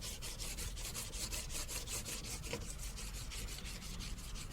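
Detailing clay rubbed back and forth over car paint to lift bonded dirt, a faint close scraping hiss in steady rhythmic strokes, roughly two per second, with no speech.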